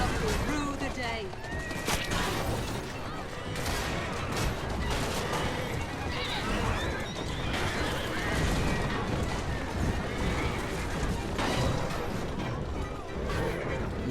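Horse-drawn carriages being driven and smashed in Assassin's Creed Syndicate, with whinnying horses, clattering hooves and dense crashing bursts over a constant busy street din, while a voice talks in places.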